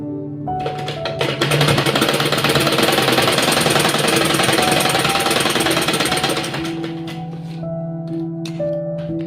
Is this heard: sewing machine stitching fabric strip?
yes